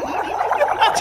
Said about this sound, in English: I'm gonna spray compressed air in my water.